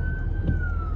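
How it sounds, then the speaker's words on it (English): A police car siren sounds as a steady, slowly falling wail above a loud low rumble of traffic, lasting only a moment. "Ten police cars heading up Marion Barry."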